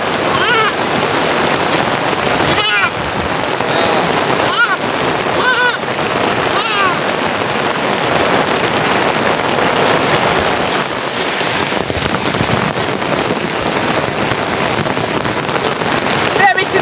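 Rain falls outdoors in a rural Bangladeshi setting, a young goat getting soaked nearby. A steady, dense hiss of rainfall persists throughout, with occasional wind buffeting and a voice speaking over it.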